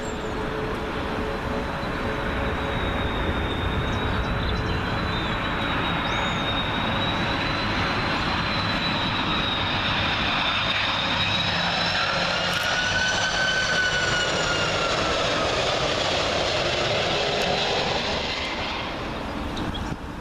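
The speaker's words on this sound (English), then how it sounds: "Next up, coming in very low over the house, is Iberian A330 coming in from Madrid" An Iberia Airbus A330 arriving from Madrid passes very low over houses on approach to Heathrow runway 27L, a loud continuous engine roar with rising and falling whine, close overhead and sustained throughout, without talk.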